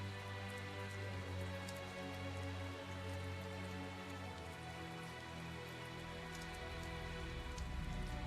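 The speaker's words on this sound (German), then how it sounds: "Ganze Zeit am Regnen hier." Rain in the Tales of Zestiria video game, a steady patter of drops on surfaces with a low musical drone beneath, continuous and even throughout, without speech.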